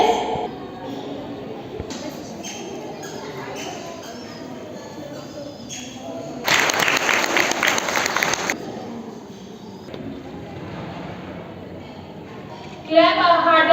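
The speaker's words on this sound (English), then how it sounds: "Clap harder for our little champion." At a school gathering, a short burst of audience applause for a student rises for about two seconds amid ongoing talk and room noise, then fades back to voices.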